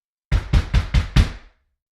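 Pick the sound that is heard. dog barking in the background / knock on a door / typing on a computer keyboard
knock on a door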